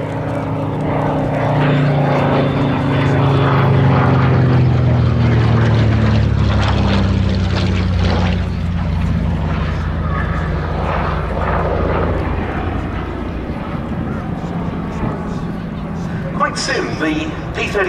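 A Curtiss Hawk 75 / P-36 monoplane fighter flying at an air show, its piston engine and propeller droning steadily with a slowly shifting pitch as it passes, while a commentator talks over it throughout.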